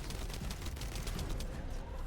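Turret gunfire in The First Descendant, a dense continuous fusillade of rapid shots filling the whole stretch at steady loud level, with no talking.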